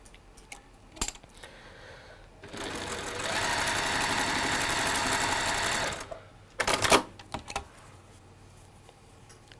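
A sewing machine stitches fabric pieces into pairs, running in one steady burst of several seconds followed by a few short stuttering spurts, with quiet handling noises in between.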